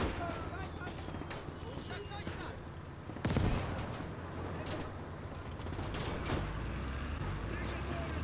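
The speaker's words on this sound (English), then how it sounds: "mortars are coming down on top of it" Mortar shells land during a World War II battle in the Call to Arms: Gates video game, with a heavy blast thudding among constant gunfire and rumbling vehicle noise. The battle din stays loud and dense throughout.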